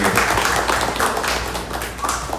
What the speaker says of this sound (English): Can we clap it up for that real quick?